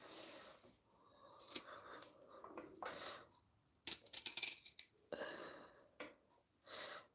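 Dried ends being trimmed off juicing produce with a knife or scissors, a series of close, sharp snips and cutting scrapes in uneven bursts with small handling noises between them.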